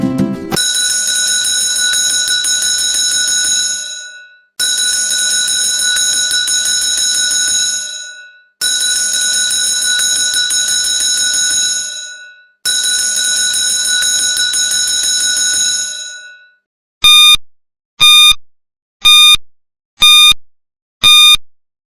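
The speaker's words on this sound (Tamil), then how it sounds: "அதுதான் பெல், அதாவது மணி ஒலி." A bright, ringing bell sounds in four long sustained bursts with brief gaps between them, then gives five quick separate dings, loud and close with nothing else heard.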